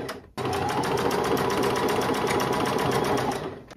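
A sewing machine stitching trim onto the bottom of a thrifted garment, starting abruptly after a short pause and running steadily with a fast, even mechanical rhythm, close and loud.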